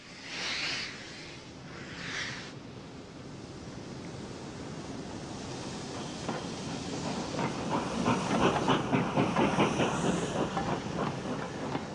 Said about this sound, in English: 62041 slips on the greasy rails